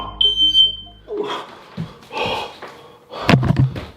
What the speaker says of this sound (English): the fire alarm that turns off when he commands it to come in that order